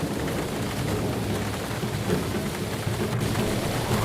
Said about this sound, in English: The rain continued for days.